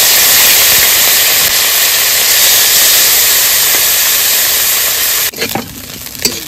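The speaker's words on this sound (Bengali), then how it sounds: "তেল গরম হয়ে গেছে, মাছগুলো দিয়ে দেবো।" Small river fish frying in hot mustard oil in a heated kadai: a loud, steady sizzling hiss runs for about five seconds, then drops away into quieter crackling and clatter.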